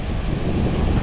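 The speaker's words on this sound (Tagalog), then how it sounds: "Nakalakas po lang hangin din eh." A brief burst of strong wind buffeting the microphone, a loud continuous rumble with no other sounds.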